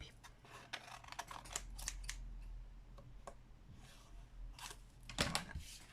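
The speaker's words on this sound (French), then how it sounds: "Donc, je découpe." Scissors cut through a paper or lace doily in a quiet room, giving a string of small, crisp snips and clicks at an uneven pace.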